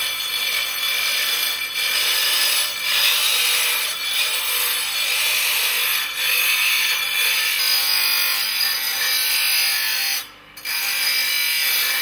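A wheel hub is ground during traditional hub-making, a continuous, loud, rasping grinding that holds steady and dips briefly near the end.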